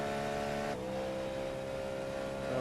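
Race car accelerating hard on Road America in an IMSA sim racing game, a steady high-pitched engine drone that drops slightly in pitch at a shift and then climbs again, loud and continuous with no talking.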